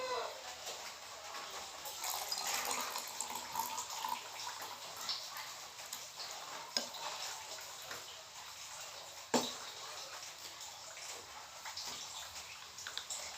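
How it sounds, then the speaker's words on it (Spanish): Warm water runs into a bowl for bread dough, a steady hissing pour lasting throughout with a few small knocks and clinks, fairly close. "Le agregaré el agua tibia."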